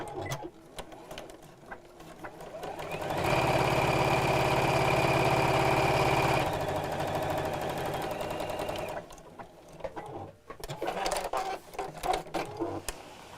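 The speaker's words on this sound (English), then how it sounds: "I'll top stitch now across the top" A sewing machine top stitches across the upper edge of a rattan-handle bag in one steady, loud mechanical run of several seconds, with quieter handling and rustling of fabric before and after.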